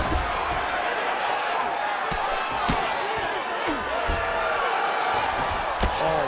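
Sharp thuds of punches landing in the EA Sports UFC 5 fighting game, a few brief impacts over steady crowd noise, with a commentator talking throughout.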